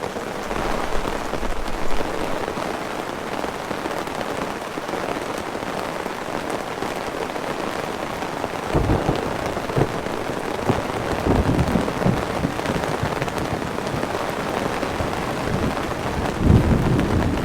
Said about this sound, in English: Normally I like the sound of rain and thunder, but this is just a little bit too loud